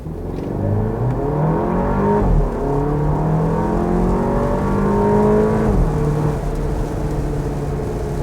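A 2017 Porsche Macan's four-cylinder engine pulls hard under acceleration, its loud rising drone dropping in pitch as the automatic gearbox shifts up twice, heard from inside the car with no talk.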